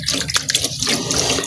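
Steady tap water running hard for washing freshly caught fish to be cooked into sinigang, a continuous close splashing gush with small bubbling variations and no talk.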